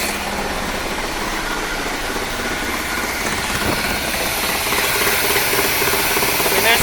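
A 1975 Corvette C3 engine idling after restoration from long neglect, a steady mechanical drone with ticking valvetrain chatter, close and continuous, gradually getting slightly louder, no talking.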